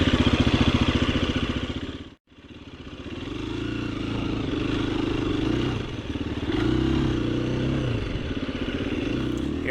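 A KTM 350 EXC-F dirt bike climbs a hill on soft soil, its engine droning steadily and close, with one brief dip in revs before pulling hard again.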